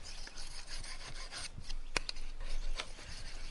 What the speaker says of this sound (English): I turn the stone over to the fine side and polish the edge with this side of the stone in exactly the same way